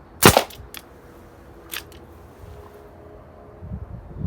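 A Colt 1911 A1 Government pistol fires one loud, sharp shot up close, followed by a fainter crack and a later second report, with quiet outdoor air and faint rustling between.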